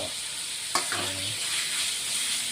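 Marinated pork with curry powder stir-frying in a hot pan, a dense steady sizzle close up with one sharp spatula knock and a brief scrape, no talking.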